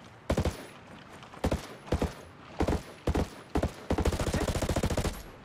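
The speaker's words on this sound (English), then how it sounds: "Enemy fire! Watching me. Hostiles are shooting." Enemy gunfire in Ghost Recon Breakpoint: separated bursts of loud automatic shots, then a longer rapid rattling volley near the end, with no talking.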